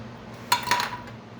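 Utensil clinking against a bowl while mixing sugar and eggs for a dough, two close metallic clinks half a second apart over a quiet room, no talking.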